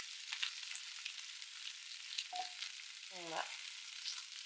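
Liège meatballs frying in a pan make a faint, steady high sizzle with light spattering throughout. A single short spoken word is heard briefly in the middle.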